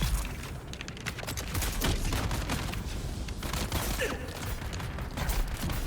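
Sustained bursts of gunfire from Dune: Awakening, dense overlapping shots and booms running continuously and loudly through the whole stretch.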